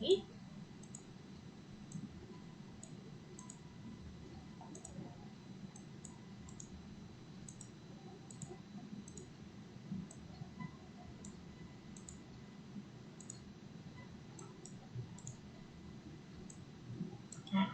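Computer mouse clicks come at an uneven pace while colours are picked in WordPress. They are faint and sharp against a low room hum, and soft speech runs underneath.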